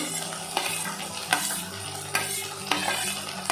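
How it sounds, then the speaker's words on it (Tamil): Carrots and peas frying with onions for sauce idli, stirred in a sizzling pan, with a steady loud sizzle and a spoon scraping the pan at regular intervals, about once every second, close by. "வெங்காயம் வந்து நல்லா ஃப்ரை ஆகிடுச்சு. இப்போ கேரட் அண்ட் பட்டாணி போட்டுக்கலாம்."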